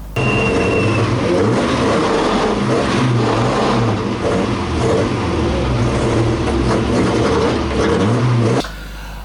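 An MGB Mk1 race car with a banjo rear axle runs hard at Brands Hatch on the day its rear differential broke. The loud engine revs and drones through several rising and falling passes, then cuts off abruptly near the end.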